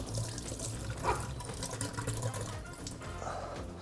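Running tap water splashes steadily while peeled potatoes and carrots are rinsed in a kitchen sink, a continuous moderate rushing flow with no talk.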